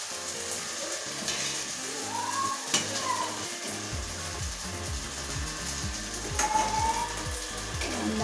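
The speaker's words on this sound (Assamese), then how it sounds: "মাছখিনি ভাজিলো ভাজা হৈ গ'ল আৰু এফালে ভেন্দি ভাজি আছো" Fish and okra frying together in a pan during home lunch cooking, a steady close sizzle with scraping stirs and clinking utensil taps running throughout, no talking.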